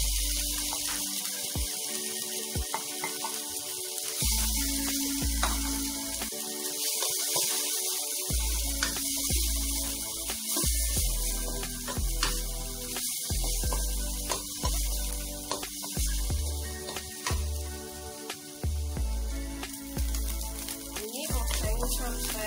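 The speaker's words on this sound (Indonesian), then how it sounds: "Jika sudah panas, masukkan ayamnya." Shredded chicken fries in hot cooking oil in a frying pan while making Indonesian serundeng, a continuous crackling sizzle that runs throughout under steady background music.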